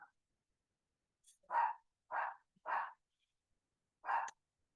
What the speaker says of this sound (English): Them dogs, bro.